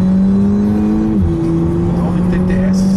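A 272 hp four-cylinder turbo engine with permanent four-wheel drive, heard from inside the car as a loud steady drone that dips in pitch after a gear change, with faint tire and road noise underneath.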